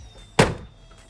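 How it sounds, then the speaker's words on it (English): A door on a Mercedes G580 electric G-Wagon slams shut once, a sharp, loud solid thunk that dies away quickly in a quiet setting. "you open the door and you slam it"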